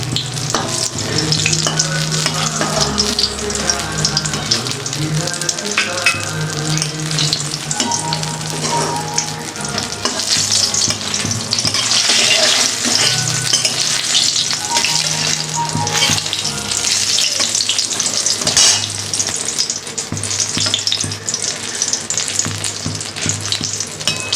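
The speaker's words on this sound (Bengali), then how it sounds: "বেগুন ভাজাটা আমার হয়ে গেছে, দেখো লাল লাল করে ভেজে নিচ্ছি।" Loud, steady sizzling of eggplant pieces frying in hot oil, with occasional stirring scrapes throughout; no voices.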